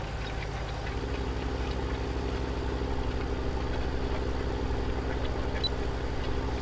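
A Magnum 340 tractor in Farming Simulator 17, hitched to a 12-meter cultivator, idles in a steady low rumble with a faint knocking texture, continuous and even throughout with no talking.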